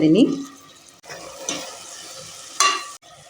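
Onions, tomato and peas sautéing in a pan, with short bursts of stirring and scraping over a soft sizzle, close and fairly quiet.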